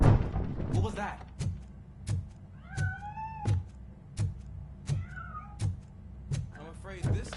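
A cat in the RoboCop Rogue City video game meows a few times between a steady series of heavy, regular thuds like slow footsteps or knocks, the meows quieter and slightly distant.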